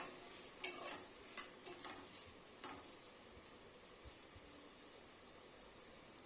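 Eggplant and potato sizzle steadily in a hot pan, with a few scraping stirs of a utensil early on, fairly quiet and without any talking.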